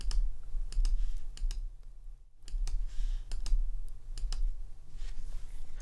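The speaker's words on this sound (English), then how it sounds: "So I can click and drag and move panels around. And if I click, it'll show me the panel as well." Mouse clicks from dragging and moving panels around in Adobe Muse design software, a steady run of sharp, close, fairly quiet clicks in uneven bursts over a low hum, with no talking.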